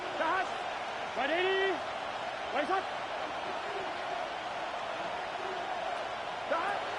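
Stadium crowd noise in an EA Sports football video game, a steady broad roar with a few louder swells of cheering and whoops rising above it, while a commentator's voice talks over it intermittently.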